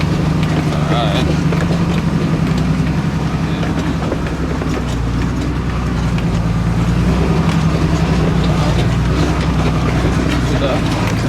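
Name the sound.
truck engine revving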